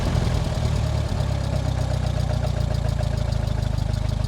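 A Ford Model T engine idles steadily, a loud, continuous low rumble with a chugging mechanical throb that holds even throughout, with no talking.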